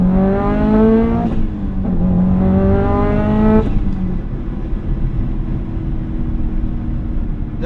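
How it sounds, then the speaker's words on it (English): A 2005 Subaru WRX STi with an EJ207 engine accelerating from a standstill, loud rising engine revs climbing through two gear changes, then settling into a steady roar of road and engine noise. "let's go ahead and do a little 0 to 60 easy going"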